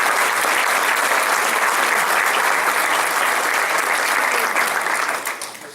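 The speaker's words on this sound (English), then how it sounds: "Let's give them a round of applause." Dense, steady audience applause at a charity roast dinner, a loud continuous wash of many hands clapping that holds evenly and then starts to fade near the end.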